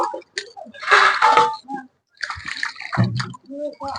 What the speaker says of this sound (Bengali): এবার জল দিয়ে দেবো, দিয়ে ভালো করে একবার ধুয়ে নেবো।